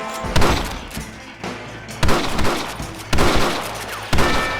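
Gunfire in a Western shootout in the video game Red Dead Redemption: four heavy bursts of shots land about once a second, each with a sharp thudding onset and a rattling tail, loud and close, with no talk.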